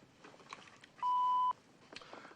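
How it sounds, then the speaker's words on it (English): A single steady answering-machine beep lasting about half a second, clear and prominent above a faint background of small household noises. "If you care to leave a message, however, wait for the little beep."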